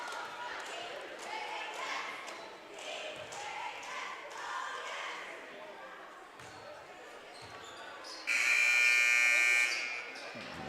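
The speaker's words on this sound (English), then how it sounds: "So there's the buzzer." Long electronic buzzer sounding loudly for a few seconds near the end of a basketball timeout before halftime, over gym crowd murmur and a commentator's voice.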